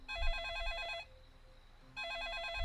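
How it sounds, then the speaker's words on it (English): A telephone rings inside a house in a video game: two bursts of rapid, warbling electronic trills separated by a second-long pause. The ringing is clear and steady over a faint low background, with no talking. "the phone's going off"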